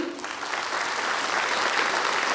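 An audience at a network marketing motivational event claps in a steady, dense roar that swells slightly and holds at full strength throughout, with no voices standing out.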